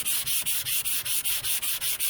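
Hand sanding the body panel of a 1978 Chevy Nova with sandpaper: quick, even back-and-forth scratching strokes, about five per second, close and steady with a bright hiss and no talking.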